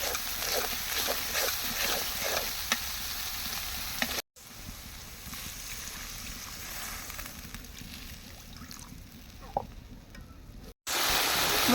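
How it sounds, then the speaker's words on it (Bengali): Masala paste sizzles and fries in oil for a fish and pumpkin curry, a steady close crackling hiss with occasional stirring scrapes, briefly cut off partway through. "মশলাটা কষানো হয়ে গেছে এখন"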